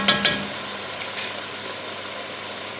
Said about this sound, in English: My potatoes are done frying.